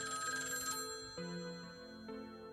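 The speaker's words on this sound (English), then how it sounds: "This was a classroom, so why would I be hearing a ringing sound in here?" An old black telephone rings in a classroom, its bright electronic-sounding bell trilling loudly, pausing and then ringing again with a shifted tone, with no voices.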